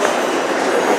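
New York 7 subway train running, a continuous rumbling roar with rhythmic clatter from the wheels, heard from inside the car with no voices.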